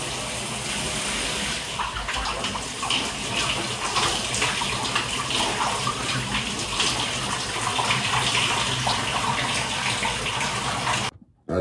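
A cold shower runs in a steady, hissing gush of water for about eleven seconds, then cuts off abruptly.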